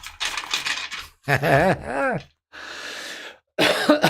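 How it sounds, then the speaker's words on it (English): A person coughs in several harsh bursts, separated by short pauses, close to the microphone. "I don't know why I done some coughing there"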